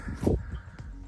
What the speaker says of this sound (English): You can tell that a lot of birds must nest up in here